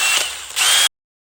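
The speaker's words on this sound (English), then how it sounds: "What I use for the inside is just this flapper wheel." A power drill fitted with a flapper wheel grinds inside an exhaust pipe for a 1963 split-window coupe, giving two short, loud whirring bursts before it stops abruptly.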